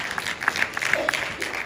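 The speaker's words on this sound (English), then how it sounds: "You might as well clap for that." A church congregation claps together during a sermon, a brief burst of dense, steady applause at moderate level with faint voices mixed in.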